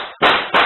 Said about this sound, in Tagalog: umalingaw na ang magkakasunod na putok ng baril